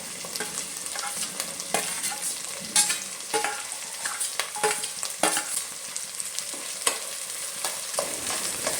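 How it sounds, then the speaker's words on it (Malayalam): Green chilli, ginger and garlic sauté in a pan for a lemon pickle, a close sizzling hiss broken by frequent scraping stirs and spoon knocks at an uneven rhythm, with no talking. "വെളുത്തുള്ളി ഒന്ന് ബ്രൗൺ നിറമാകാൻ തുടങ്ങുമ്പോൾ വരെ നമുക്ക് വഴറ്റി കൊടുക്കാം"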